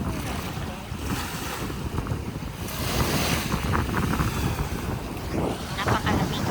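Small waves wash onto a calm beach on the Central Coast of Australia, a continuous hiss of surf mixed with strong wind buffeting the microphone, and people talking faintly in the background.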